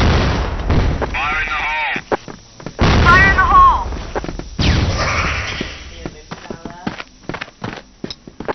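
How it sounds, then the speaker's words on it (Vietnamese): A grenade blows up in a first-person shooter bomb-mode match, loud booming bursts mixed with rapid gunfire and sharp pops, while players' voices talk over the action. "Lựu đạn nè, né đi."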